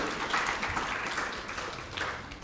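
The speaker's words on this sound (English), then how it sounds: "another round of applause, please, for Professor Omedire" A room of attendees at a teaching and learning festival gives a round of applause for Professor Omedire after a speech; moderate, even clapping that tapers slightly toward the end.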